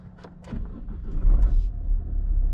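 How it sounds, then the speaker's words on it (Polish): A Nissan car with a push-button start cranks for a moment and then fires, followed by a steady low engine rumble heard from nearby inside the car. "i samochód nam pięknie odpala"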